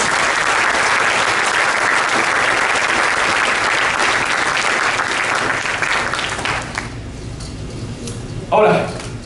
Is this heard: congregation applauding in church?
yes